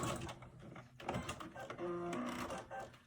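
A sewing machine runs steadily as it back stitches a fabric face mask, giving a continuous close mechanical whir with small shifts in pitch as it reverses. A voice talks faintly underneath.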